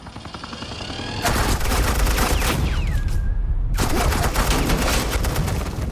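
Suppressing gunfire in Batman: The Enemy Within, rapid automatic bursts hammering loudly in two long volleys separated by a brief pause, with a faint voice before the shooting.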